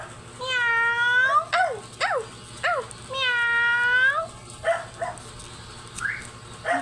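A cat meows in several drawn-out, rising-and-falling cries, close and loud, with short chirpy calls between them against a steady low hum.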